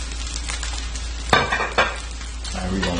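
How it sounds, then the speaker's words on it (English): Rice dumped into a hot pan for fried rice sizzles steadily while a utensil stirs it, with a couple of sharp scraping clinks against the pan midway and no talking. "Time to add the rice. So I'll make a little spot in the center. I'm gonna dump all that rice in there."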